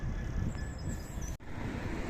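A train passes through a UK suburban area, giving a steady broadband rumble with wind noise over the whole stretch and a few faint high squeals, loud and continuous with a brief dropout partway through.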